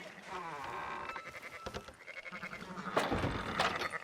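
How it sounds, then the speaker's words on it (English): Sheep in the Red Dead Redemption 2 video game bleat a few times at close range amid busy game ambience, with a voice talking over part of it. "Fine sheep."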